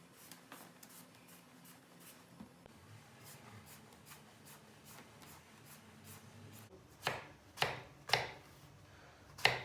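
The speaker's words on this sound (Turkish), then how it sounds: "Şimdi size patlıcanları soyarak başlıyoruz." Quiet rhythmic scraping strokes of a peeler on eggplant skin, repeating steadily, with a few louder strokes toward the end.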